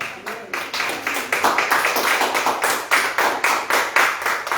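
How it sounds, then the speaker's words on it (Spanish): Congregation in a church service clapping in unison, a loud, steady rhythmic beat of many hands at a brisk even tempo, sustained throughout with a voice faintly underneath. "Y le doy un aplauso al Señor."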